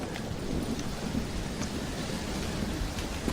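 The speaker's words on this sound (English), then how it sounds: "Well, it's just the storm, John." A thunderstorm rages outside a castle, with a dense, steady hiss of heavy rain and low thunder rumbling underneath, loud and close, with no voices.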